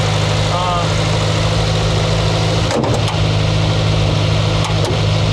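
A 1984 Chrysler LeBaron with the 2.6 engine and Mikuni carburetor idles steadily, a loud, close, continuous hum with brief rattles and knocks partway through.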